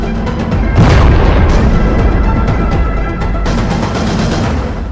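A suicide bomber's explosion goes off near the Turkish parliament. Heavy, loud, continuous booming rumble fills the whole stretch, with a stronger surge near the start and rolling noise afterward.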